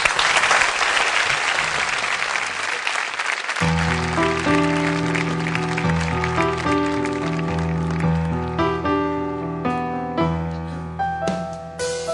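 Studio audience at a Turkish TV show applauding a band, a loud burst of clapping that gives way after a few seconds to sustained instrumental music with steady tones.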